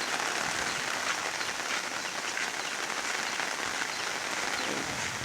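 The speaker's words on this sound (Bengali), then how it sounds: "প্রচুর বৃষ্টি, এজন্য বাইরে কোথাও ঘুরতে যেতে পারতেছি না।" A downpour drums on the ground in a rural Bangladeshi village, an unbroken broadband patter of heavy rain, close and steady from start to finish, with no talk.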